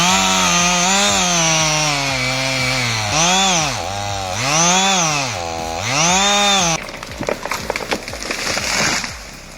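A chainsaw revs loudly and repeatedly during tree cutting, its engine pitch swooping up and down in surges before dropping into a rough, crackling chop as wood gives way.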